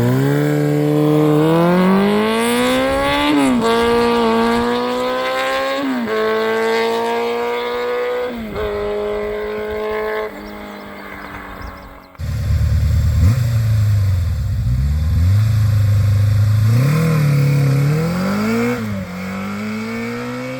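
A motorcycle engine revs hard and close, its pitch climbing in repeated rising sweeps as it pulls toward about 8,000 rpm, drops briefly at a shift, then climbs again, loud and unbroken.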